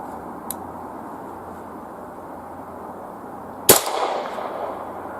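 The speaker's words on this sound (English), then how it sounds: "first we're going to shoot the CFE Blackout" One sharp, loud report of a rifle firing CFE Blackout 300 BLK subsonic ammunition outdoors, a single crack near the end with a short decaying echo after a quiet stretch.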